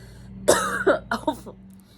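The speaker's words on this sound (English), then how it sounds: "Sorry about that. I have this cough" One person coughs several times in a quick, harsh burst up close, ending with a light throat-clearing rasp.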